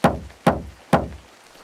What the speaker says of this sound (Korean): 누군가 구신의 집 문을 두드렸어